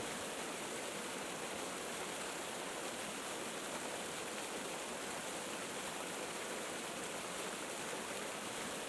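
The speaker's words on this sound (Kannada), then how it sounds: "ಹಾಗೂ ಇದು ಅದನ್ನು ಪ್ರೂವ್ ಮಾಡ್ತಾ ಬಂದಿರುವಂಥ ಜಲಪಾತಕ್ಕೆ ನಾವಿವತ್ತು ಬಂದಿದ್ದೇವೆ" Waterfall at the source of the Netravati river, falling 122 metres from Chandradrona mountain, heard as a steady, even rushing roar, faint and unbroken with no voices.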